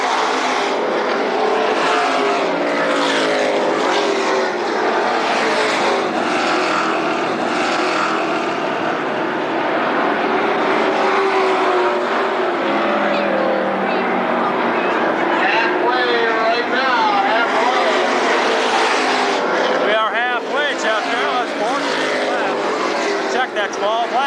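Late model race cars roar around Berlin Raceway in a feature race, a dense, continuous engine drone with rising and falling pitch as cars pass, under steady announcer commentary over a loudspeaker.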